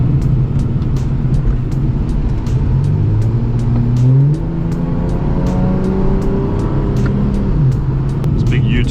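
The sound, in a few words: Ford AU Falcon car driving on curvy road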